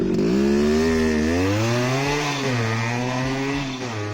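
A Yamaha RX100 motorcycle with a 98cc two-stroke engine revs loud and close, its raspy buzzing note rising and falling in pitch steadily across several seconds, with no talk.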